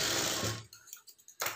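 A sewing machine stitches the marked front of a blouse, a loud whirring burst that stops abruptly, followed by a few soft clicks and a brief restart.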